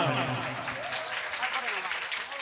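An audience claps at a Sambalpuri song performance, a dense patter of hands under a voice, which talks over the clapping for the whole stretch.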